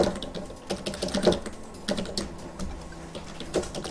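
A computer keyboard clatters with quick, irregular keystrokes at close range, in short bursts with brief pauses as a command is entered in AutoCAD; no voices.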